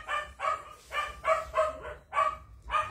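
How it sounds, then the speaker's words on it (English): A dog barks in a steady series of about seven loud, close barks spaced roughly half a second apart, with no talk over them. "You notice when the dog bark"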